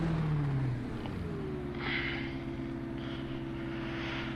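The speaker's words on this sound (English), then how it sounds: "Let's put the engine on, shall we?" Engine of a historic Grand Prix Legends race car in iRacing cranks and settles into a steady low idle at the Red Bull Ring, a continuous droning hum with a brief rising whine at the start.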